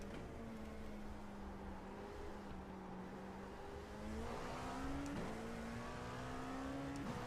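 A Dallara LMP2 race car engine in iRacing at Daytona drones steadily, its pitch slowly rising and dipping as it holds speed, with a sharper rev near the end.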